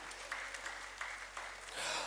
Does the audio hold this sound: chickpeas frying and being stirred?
no